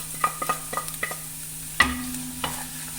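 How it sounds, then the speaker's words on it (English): Spices hit hot oil for a Kadha Prasad halwa and masala chana dish, with a soft sizzle under a string of sharp spoon-and-pan clinks and scrapes from quick stirring. "The spices need just like 5 seconds in this hot oil to release their aroma"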